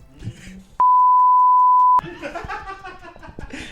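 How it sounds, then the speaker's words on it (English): A single steady censor beep, loud and pure-toned, lasts about a second, cutting between stretches of talking and light laughter. "I'm going to do so much beeping"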